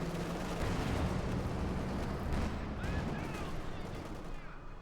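S-mines explode in a Company of Heroes 2 battle, a dense rumbling burst of blasts and gunfire that stays loud and continuous throughout, with a faint voice beneath the din.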